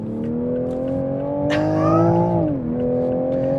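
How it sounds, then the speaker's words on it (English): A 2026 Toyota Supra Final Edition accelerating onto an interstate in sport mode, heard from the cabin as a steady engine drone rising in pitch, then a dip as it shifts before pulling on. "Now, getting onto the interstate here, putting the vehicle in sport mode"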